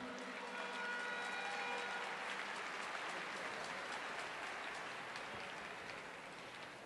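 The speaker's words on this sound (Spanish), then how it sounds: "Fuerte el aplauso para él." Applause for a university rector at a Latin dance contest event, a steady wash of many hands clapping at moderate distance, fading slightly toward the end.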